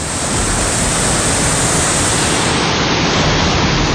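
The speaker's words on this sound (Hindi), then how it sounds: "बांध के दरवाजे खोले जाने के चलते आसपास के पुल पुलिये और सड़कों के ऊपर से पानी बहने लगा है।" Floodwater rushing over bridges, culverts and roads after four dam gates were opened during heavy rain, a loud, steady broadband roar of flowing water filling the whole stretch with no pauses.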